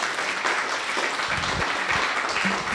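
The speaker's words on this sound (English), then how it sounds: "give one more round of applause for Stefan." Audience applause after a talk on UN peace operations, steady broadband clapping throughout, moderately loud and without voices.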